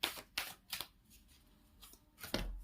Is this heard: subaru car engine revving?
no